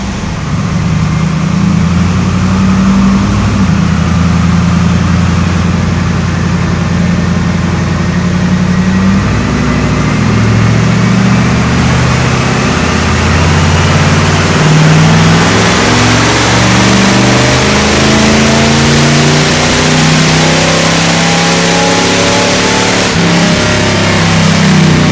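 A Buick 401 Nailhead V8, back in its car, revs hard on a chassis dyno: loud, sustained engine roar with rising and falling pitch through repeated pulls, no talking.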